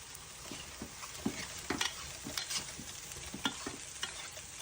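Taro roots (kochu mukhi) fry in a pan while being stirred, producing a close, steady sizzle with irregular scraping and clicking strokes of a spoon against the pan; fairly quiet, no talking.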